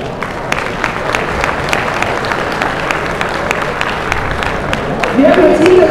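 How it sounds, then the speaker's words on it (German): Loud, dense applause from a large audience at a Fleckvieh cattle show, steady clapping throughout with a brief voice near the end. "spenden Sie diesen herausragenden 6 Kühen einen kräftigen Applaus"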